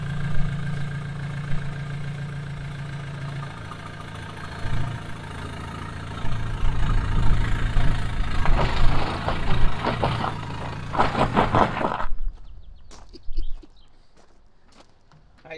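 A long-abandoned Ford Transit turbo van engine runs with a steady, rumbling idle for about twelve seconds, then cuts off abruptly, leaving only faint scattered noises.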